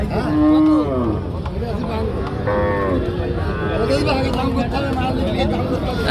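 A cow lets out two low, drawn-out moos over the busy chatter of a crowd at a cattle market.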